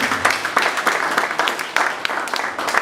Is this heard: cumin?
no